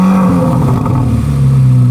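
A Chevrolet Corvette C8 Z06 engine catches and settles into a steady, loud idle, with a deep low drone and a brief rise in revs as it fires.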